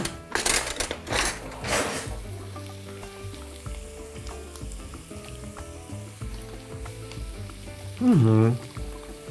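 Ingredients for tolma sizzling in a hot pan with a steady frying hiss, a few clattering knocks early on and a brief voice near the end.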